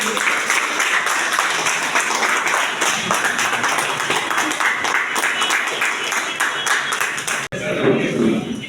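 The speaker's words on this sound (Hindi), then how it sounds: "तो आप लोग तालियां बजाते हैं।" Applause from a crowd of railway workers at a union rally in Sultanpur, dense clapping running steadily for several seconds before cutting off, with voices mixed in.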